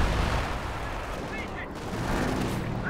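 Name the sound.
howitzer artillery fire in video game Company of Heroes 2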